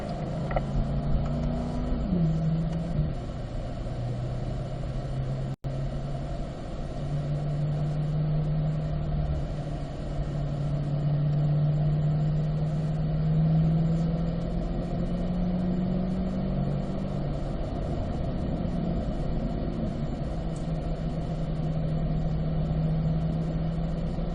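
A drag racing car idles in third gear while taxiing onto the course, a steady low engine rumble with gentle pitch shifts and one sharp click early on.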